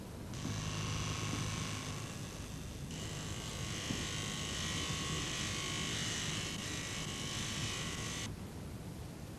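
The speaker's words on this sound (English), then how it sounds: "He uses an electric needle tool, linked by a tube to the color he wants to inject." Electric tattoo needle machine used for traditional-style tattooing with a tube feeding ink, buzzing steadily and close up, with a short break near the start, then stopping.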